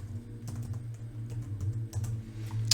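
Quick bursts of close typing on a computer keyboard while renaming a Windows 10 desktop, light irregular key taps over a steady low hum.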